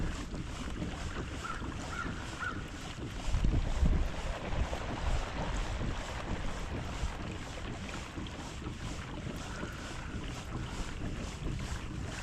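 A fishing boat runs out toward the main channel of a lake on the Yadkin, a steady engine drone under constant wind buffeting the microphone, with no speech throughout.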